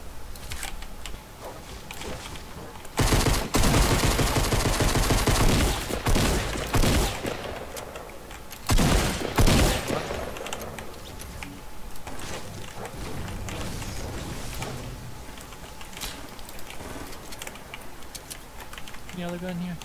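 A drum gun in Fortnite fires loud, rapid automatic bursts in several separate strings, the heaviest early and midway, with other game sounds and a voice talking around the shooting.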